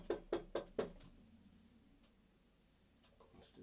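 Four quick, sharp knocks rap on a window in a tight even series, then fade into quiet room tone with a few faint taps afterward.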